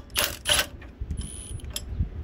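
Wrench turning a bolt on the back of an old go-kart under repair, a few close ratcheting clicks followed by quieter metallic mechanism sounds.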